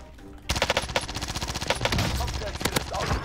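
A PPSh submachine gun fires in the Warzone video game, with rapid sustained bursts of loud, close automatic gunfire crackling over about three seconds, following a short quieter lead-in.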